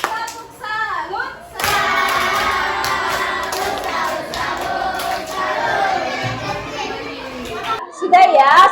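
A class of children in an Indonesian primary school perform the tepuk salut clapping routine, loud rhythmic group claps with chanting and shouting voices, close and lively, with a teacher's voice briefly heard at the start and end.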